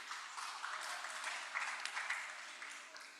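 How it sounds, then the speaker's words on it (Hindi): An audience at a formal event in a hall gives a speaker a welcoming round of applause, a steady wash of many hands clapping, fairly faint and distant, with no talk over it. "जोरदार तालियों से इनका स्वागत करते हैं।"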